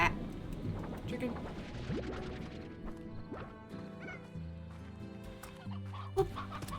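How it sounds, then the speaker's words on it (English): Chickens in the farming game Slime Rancher cluck repeatedly, with irregular calls and a few sharp clatters, while a person talks over them. "I actually do want to relocate the chicken."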